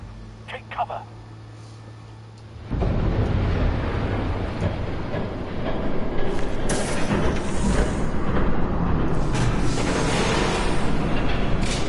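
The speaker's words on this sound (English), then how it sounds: "There's a train coming. Take cover." In the Batman Telltale game, episode 3, a quiet stretch gives way after a few seconds to a train roaring past, a loud, steady rumble with rattling that holds to the end.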